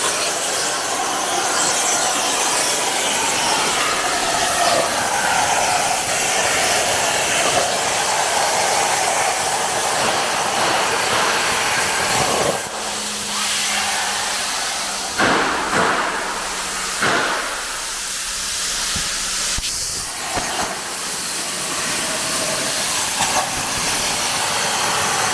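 A newly installed plasma table cutting metal roars with a loud, steady hiss for about twelve seconds, then breaks into shorter bursts separated by brief pauses and a low hum, close and continuous.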